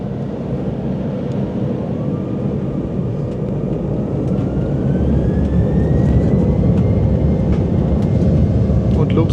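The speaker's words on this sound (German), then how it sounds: "Wenn ich das richtig sehe, starten wir in Richtung Osten." Inside the cabin of a Helvetic Airways airliner taking off from Hannover, a loud, steady engine roar fills everything, with a faint tone slowly rising in pitch as power builds.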